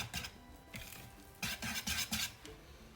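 A whisk works lemon cake batter in a bowl, making soft, irregular scraping and tapping strokes in uneven bursts, quiet and close.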